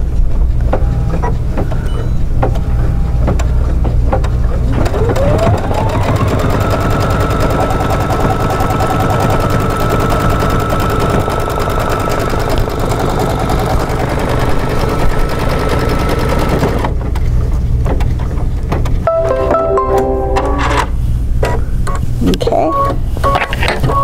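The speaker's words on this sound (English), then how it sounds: "I'm just going to go ahead and sew it down." An embroidery sewing machine stitches down a pillow applique with a loud, continuous rapid rattle and a motor tone that rises and then holds steady. A person's voice can be heard over the machine.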